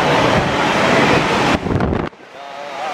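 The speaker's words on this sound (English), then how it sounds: "Ah, it's windy." Strong wind buffets the microphone in loud roaring gusts, then drops off abruptly, leaving quieter outdoor background.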